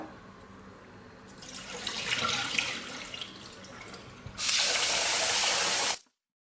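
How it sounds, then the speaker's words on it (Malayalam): Water runs and splashes steadily while rice is swirled and rinsed, ending in a louder burst of rushing water before it stops abruptly. "നന്നായിട്ട് ഇതേപോലെ തിരിഞ്ഞ് കഴുകിയെടുക്കാം"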